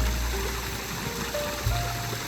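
Water flowing steadily in a stream outdoors on a breezy day, a continuous close rushing wash with a low rumble and a few faint tonal hums over it.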